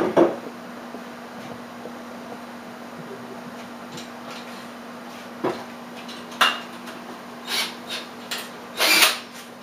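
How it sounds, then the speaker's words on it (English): Spoon stirring freshly pitched yeast into a homebrew batch, with scattered clinks and scrapes against the pot over a steady hum, the knocks growing louder and more frequent toward the end. "so we'll give this a good stirring here"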